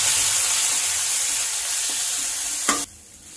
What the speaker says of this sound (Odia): ଏବେ ମୁଁ ପିଆଜ ପକଉଛି।